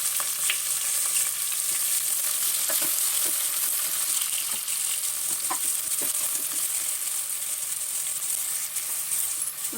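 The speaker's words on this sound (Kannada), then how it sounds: "ಈರುಳ್ಳಿ ಚೆನ್ನಾಗಿ ಫ್ರೈ ಆಗಿದೆ" Onions frying in oil for paneer pulao, a continuous close sizzle with occasional ladle taps and stirring clicks scattered throughout.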